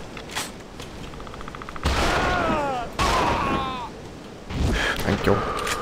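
Shotgun blasts ring out in a video game, several heavy booming shots with echoing tails and rattles, mixed with a person talking over the action.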